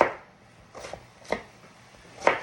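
A kitchen knife cuts down through cabbage onto a cutting board for kimchi, giving four crisp, separate chops spaced about half a second apart, close and fairly quiet.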